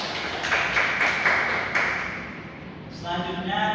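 Students in a classroom clap together, a brief burst of close, steady applause that tapers off, followed by a short bright ring.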